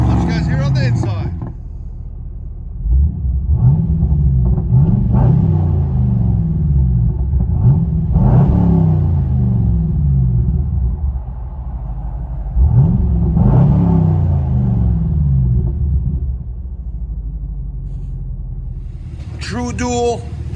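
A 2014 Chevy Camaro SS 6.2L V8 on true dual Flowmaster Outlaw exhaust with resonators, heard from inside the car: a deep steady rumble rising through several accelerating pulls, with brief talk at the start and end.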